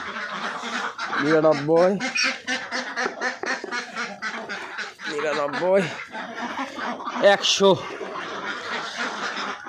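Ducks on a duck farm quack loudly in repeated bursts, several birds together, while a man counts aloud over them.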